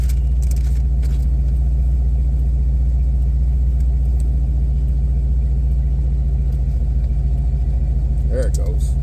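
A Chevy engine on a box Chevy idles steadily and loudly up close, a deep continuous rumble that holds throughout with little change.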